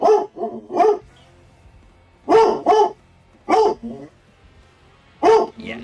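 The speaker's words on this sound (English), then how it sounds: "Alright, moving on to Misty with a very barky dog" A dog barks nearby in quick clusters of two or three sharp barks, separated by short pauses, with faint background sound in between.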